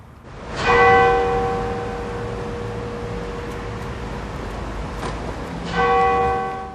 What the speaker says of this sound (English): Bells of remembrance tolled over London